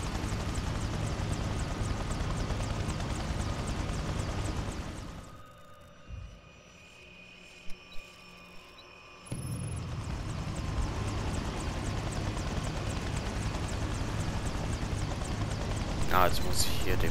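A helicopter in the game Prototype drones with a steady loud rotor and engine roar that drops away for a few seconds in the middle, then returns at full strength.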